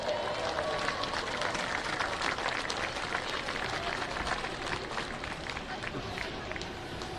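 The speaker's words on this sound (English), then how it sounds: "Let's give them all a round of applause." Crowd applause at a West Virginia Class AA cross country championship, a dense, steady patter of many hands clapping outdoors, sustained evenly for several seconds.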